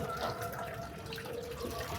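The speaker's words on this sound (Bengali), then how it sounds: "গাইস মোটর ছেড়ে দিছি, ওই যে ওটা দিয়ে এখন পানি উঠতেছে।" Water driven up by a running motor pump pours out in a steady, quiet, continuous rush and splash with no clear breaks.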